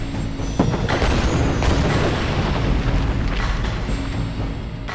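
A Joseon-era Singijeon two-stage gunpowder rocket fires and its warhead bursts, making a loud, sustained roaring blast with rough crackling surges for several seconds.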